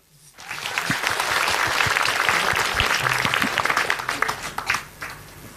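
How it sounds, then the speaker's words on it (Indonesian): Audience applause at an Islamic religious talk show, a full room clapping steadily for several seconds, then thinning and fading out. "Tepuk tangan dulu."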